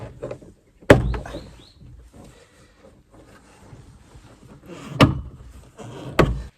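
Quiet handling noises with three sharp plastic pops or clicks, spaced a few seconds apart, as trim clips snap loose from a 1980 Volvo 345 door panel.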